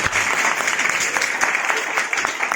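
Audience applause fills the space, a steady wash of clapping with sharper individual claps standing out, continuous from start to finish.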